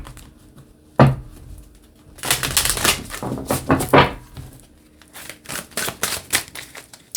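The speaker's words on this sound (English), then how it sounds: "let's give this a bit of a shuffle." A Tarot of Dreams card deck is shuffled up close: a sharp snap, then bursts of rapid papery riffling and flicking, coming in uneven waves with short pauses.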